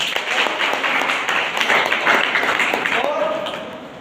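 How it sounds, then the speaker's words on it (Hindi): Crowd applause and clapping, a dense wash of many hands filling the whole stretch, steady and moderately loud, with a voice briefly rising over it near the end. "उनके लिए जबरदस्त तालियां होनी चाहिए"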